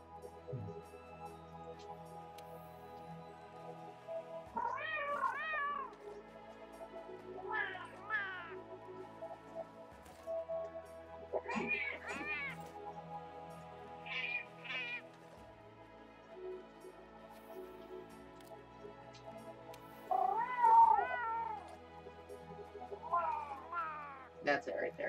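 An old male cat gives a series of separate, wavering meows spaced several seconds apart, close by, with quiet stretches between the calls and a louder cry near the end.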